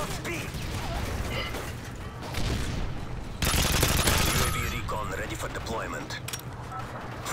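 Rapid gunfire in Call of Duty: Modern Warfare 3, dense automatic bursts and sharp shots crackling continuously, swelling louder midway, with someone talking over the shooting.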